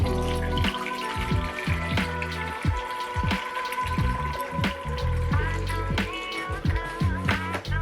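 Distilled water poured through a small funnel into the humidifier tank of an LTV 1150 ventilator, a continuous bubbling, trickling stream with gurgles and splashes, close up and steady throughout.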